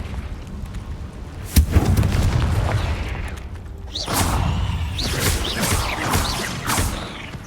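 Spell blasts from the Confringo casting in Hogwarts Legacy, set in a cave: a sharp boom at the start, then a longer rolling burst of crackling, whooshing explosions that hold steady before fading.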